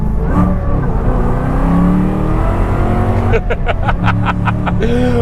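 A 1967 Shelby GT500 Mustang muscle car engine revs loud and close at part throttle, its note rising steadily, then a rapid run of sharp pulses as it drops through the gears and pulls again.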